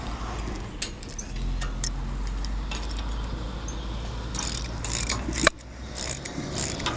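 Repeated ratchet clicks come from a wrench tightening 13 mm bolts on the frame supports of a Ranch Rite 7 head disc mower, with metallic taps and clanks at close range.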